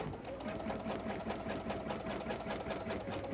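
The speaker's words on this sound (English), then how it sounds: "See, it's just making a basting stitch all around where the design's going to be" An embroidery sewing machine runs a basting stitch around a design area on an apron, a steady fast rhythmic whirring and clicking at moderate distance, continuous and alone.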